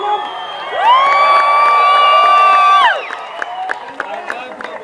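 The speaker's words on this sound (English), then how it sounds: "I love the way he fishes for applause" A convention panel audience bursts into loud cheering and whoops with some applause, a sustained crowd roar lasting about two seconds before settling back under scattered noise.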